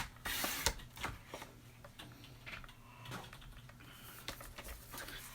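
Old card paper being cut down to size at a crafting table, with a few crisp snips and slices followed by soft rustling and shuffling of the sheets, close and fairly quiet, with no talking.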